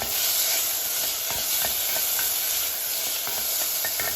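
Chopped brinjal and tomatoes fry in a pan under a loud, constant hiss, with faint scrapes of stirring scattered through it.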